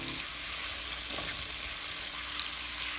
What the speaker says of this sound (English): Now I'm going to go ahead and stir the butter into the pasta, really blending this together now,